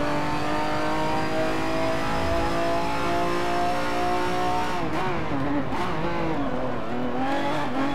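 A Porsche race car in Martini livery howls under load in Forza Motorsport 7, with a loud, steady engine note held near and constant before wavering and dipping through quick lifts and reapplications of throttle.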